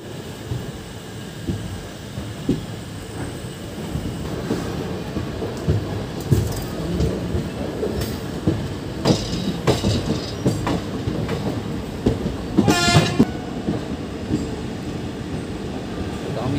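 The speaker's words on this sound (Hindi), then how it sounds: "सामने जो ट्रेन देख रहे हैं दोस्तों वो है पद्मावत एक्सप्रेस" Padmavat Express, train number 14207, runs past on Indian rail near Janghai Junction, a steady rumble of wheels with rhythmic clatter and a brief high screech or horn-like tone near the end, fairly close and continuous.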